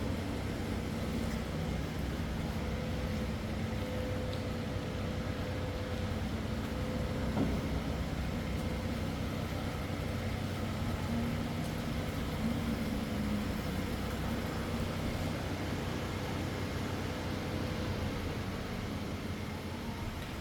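A 2021 Hyundai Grandeur IG with the 3.0 LPi LPG engine idles in a low, steady hum with a faint broadband hiss, unchanging and moderately quiet throughout.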